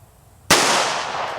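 A single sharp gunshot at a penny target during shooting practice, a loud close crack followed by a broad decaying tail of echo, alone with no talking.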